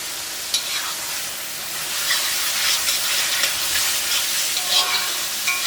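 Chicken frying with masala and curry leaves in a Kerala-style pan, a steady loud sizzle and hiss with stirring clatter throughout.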